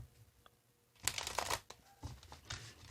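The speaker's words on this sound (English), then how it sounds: "One more shuffle, they say." A deck of tarot cards gets one quick, soft shuffle close by, a short papery burst followed by fainter rustling in a quiet room.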